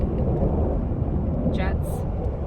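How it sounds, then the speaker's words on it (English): Military jet aircraft passing over a beach campground at St. Andrews State Park near Panama City, Florida, heard as a broad, steady roar that fills the whole stretch, with a person talking over it. "There is a military station nearby, so you will hear planes coming and going."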